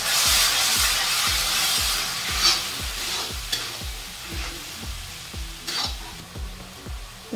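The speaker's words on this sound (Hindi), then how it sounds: "तो फ्रेंड हम टमाटर डाल के इस तरह से चला दिए।" Tomato paste stirred and sizzling in a kadai for Bihari-style kadai paneer, a steady frying hiss with rhythmic scraping strokes of the spoon, close and continuous with no talk.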